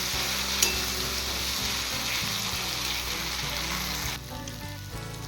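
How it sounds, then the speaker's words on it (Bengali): Vegetables sizzle steadily in a pan with ground green chili and cumin paste, a continuous close frying hiss with brief stirring scrapes, easing slightly near the end; no one speaks. "ভাজা ভাজা করে নেব"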